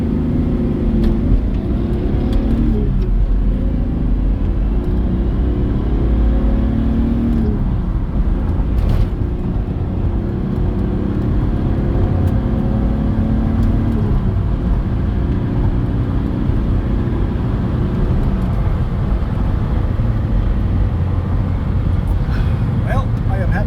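A 1982 Datsun 280ZX on a road test, its engine a steady low drone as the car drives, slows to a stop and pulls away again, with people talking over it throughout.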